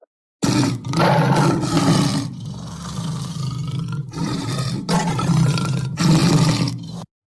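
A lion roars in four loud, close bursts separated by short pauses, each a deep, rough growl standing alone with no talk.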